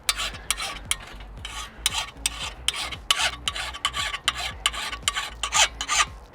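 A hand file works the edge of a lawn mower blade in quick, steady back-and-forth rasping strokes, close and fairly loud, with no talking.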